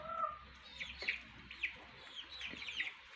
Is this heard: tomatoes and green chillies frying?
no